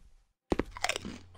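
A short, close crunch in a horror video game, several sharp brittle cracks in quick succession right after a moment of silence, followed by a fading crackly tail.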